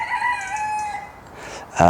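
A rooster crows once, a long drawn-out call that fades, followed by a brief louder burst at the end.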